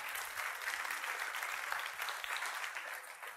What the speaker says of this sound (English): give a round of applause for those guys one more time